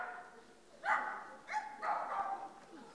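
A few dogs bark in short bursts, three separate barks at moderate distance over low background noise, with no one talking over them.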